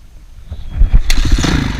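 Honda CRF450R dirt bike catches after a single kick and barks into a few quick, rough revs, close and loud, in a short burst.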